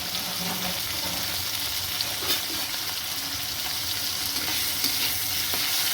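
Prawns coated in salt and turmeric frying lightly in oil: a continuous, dense sizzle close at hand, with faint stirring clinks and no talk.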